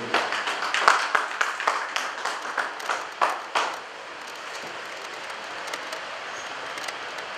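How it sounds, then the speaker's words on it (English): A small conference audience gives a few seconds of sparse, distinct claps at moderate volume that soon stop, leaving quiet room tone. "Let us give him a round of applause."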